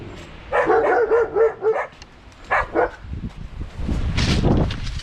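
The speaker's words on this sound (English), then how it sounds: "Oh, stop it, you silly dogs." Several dogs bark nearby in loud, rapid bursts of yips and woofs, with a pause in the middle, then rougher, lower barking and scuffling that continues to the end.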